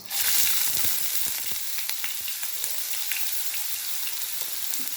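Onions hit a hot pan for a mini chicken pie filling, setting off a loud hissing sizzle that settles into steady, close crackling frying.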